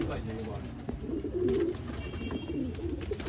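Pigeons, including a Sialkoti pigeon, coo in low soft murmurs over a continuous mix of background noise, fairly close, with several overlapping voices.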